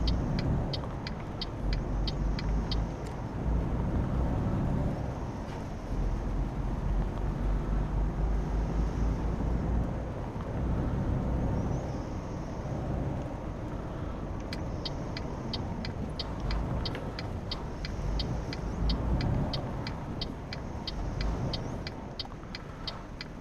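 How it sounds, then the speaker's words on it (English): A heavy truck drives past in Euro Truck Simulator, a steady loud engine and road rumble holding throughout with faint repeating indicator-like clicks over it. "I'll let Mr. Truck go by and then we'll merge ourselves."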